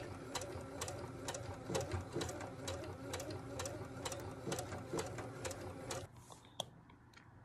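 A regular sewing machine stitches a blind hem on a pair of pants, giving a rapid, even mechanical clatter up close that stops abruptly, leaving a few faint clicks.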